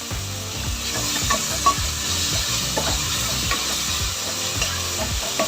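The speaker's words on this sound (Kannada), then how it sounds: "ಈರುಳ್ಳಿ ಮತ್ತು ಟೊಮೆಟೊ ಎರಡೂ ಕೂಡ ಚೆನ್ನಾಗಿ ಬೇಗ ಫ್ರೈ ಆಗುತ್ತೆ" Chopped onion and tomato frying loudly in hot oil for a country chicken curry, with a utensil steadily scraping and stirring through the pan under a continuous sizzle.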